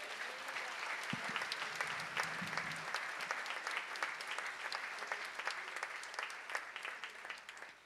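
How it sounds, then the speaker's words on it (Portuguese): A church congregation claps for Jesus during a worship service. The applause is dense and steady, continuing evenly throughout, with a few louder individual claps over the sustained crowd sound. "Pode dar uma salva de palmas para Jesus?"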